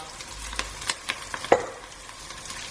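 Chicken frying in a pan for a dry pepper chicken, with a few distinct spoon scrapes and clinks over a faint, soft sizzle, fairly close and otherwise quiet.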